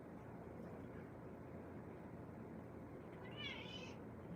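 A pet cat asking for food gives a short meow late in the moment, heard against a steady background hum with no talk.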